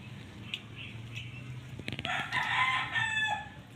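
A chick from a bird's nest fallen out of a tree peeps in short, thin, high chirps, faint at first and then a louder, busier run of cheeping near the end.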